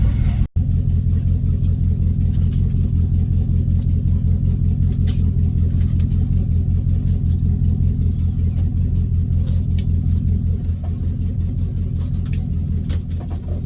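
A boat engine starts with a sharp jolt, then runs with a steady, low rumbling drone that holds evenly throughout, close and loud.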